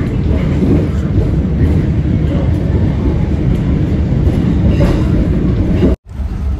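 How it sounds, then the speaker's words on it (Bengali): A New York subway train bound for Coney Island rumbles loudly along the track, a dense continuous roar with faint rhythmic clatter throughout, cutting out abruptly near the end. "ট্রেন চলতে চলেছে।"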